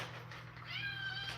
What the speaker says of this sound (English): Yeah, he's meowing.